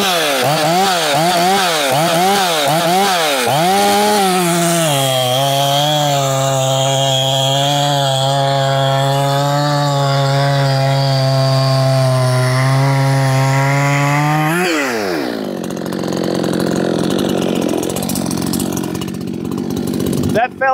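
Efco 165 chainsaw cutting into wood, loud and close: the engine revs up and down at the start, then holds a steady high-pitched snarl through a long cut before dropping back to a rougher idle.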